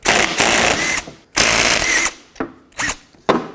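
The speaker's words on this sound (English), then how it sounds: "take the bracket off the caliper" A ratcheting wrench loosens the bracket bolts on a new brake caliper for a 2007-14 Chevy Silverado on a workbench, giving loud bursts of rapid clicking that stop and start several times in short separate strokes.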